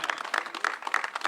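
Scattered applause at a St. Pete civic gathering, a short burst of uneven claps from a modest crowd.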